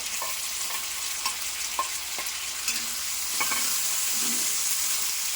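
Potato and chili sautéing in a pan with salt, a steady sizzle punctuated by a series of sharp scraping stirs, close by and with no talking.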